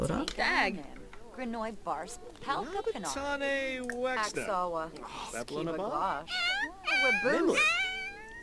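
Pet cat in The Sims 4 meowing repeatedly in drawn-out, wavering calls, loud and close, with someone speaking German in the game commentary between and over the meows.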